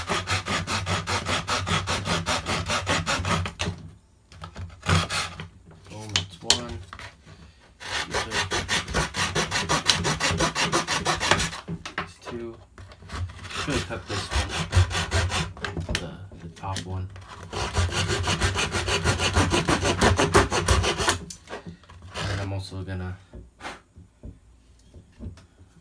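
A hand saw cuts the plastic mounting lugs and corner nubs off airsoft G&P gas blowback M16A4 handguards, rasping in long, loud, steady strokes with short pauses between bursts.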